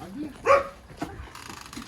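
A dog gives a single short bark close by, with soft yips and whimpers around it and a person talking over the sounds.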